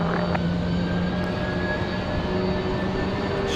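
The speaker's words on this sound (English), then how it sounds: "Should be a good sounding departure for the A319." A distant jet airliner, an Airbus A319, rumbles steadily as it departs the runway at Raleigh-Durham airport, a broad continuous roar with a faint high whine, holding even in level throughout.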